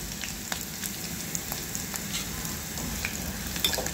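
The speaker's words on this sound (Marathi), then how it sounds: "आता इथे कढीपत्ता घालायचा आहे. आणि लाल्या सुक्या मिरच्या." Curry leaves and dried red chillies frying in a pan over low heat for a Maharashtrian cucumber dish, giving a steady close sizzle with scattered crackles and pops throughout, and no talking.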